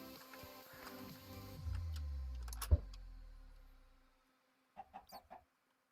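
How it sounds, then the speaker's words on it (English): A chicken in a hardcore mining video game, heard as a low sustained game tone and a sharp hit, then a quick series of four short clucks after a brief silence. "Stupid chicken, why'd you have to jump?"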